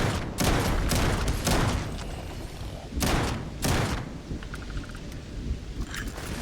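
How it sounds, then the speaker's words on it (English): Gunfire in the space game Starfield comes as heavy booming volleys, a few loud blasts in clusters with rumbling tails and gaps between them. "I'm going to keep shooting you in the mouth"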